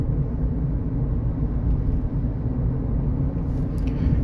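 Low, steady rumble of a diesel Mahindra XUV cruising at about 82 km/h with the AC off, heard from inside the cabin, with engine drone and road noise constant throughout.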